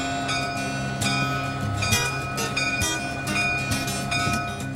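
Conway Scenic Railway train crossing the Frankenstein trestle: a steady rumble of rolling cars with metallic clanks and squeals, plus a faint sustained tone, heard close and without voices.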